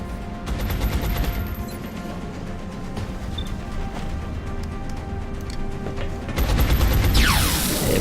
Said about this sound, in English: Pistol it is.